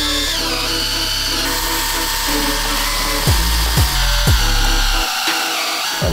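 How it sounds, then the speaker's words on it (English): Power drill churning thick, clear two-part epoxy resin in a pail, a loud steady whirring drone that holds throughout, with a few brief pitch dips as the load shifts, and a voice speaking over it. "we're gonna drill mix again because we're trying to get the A and B"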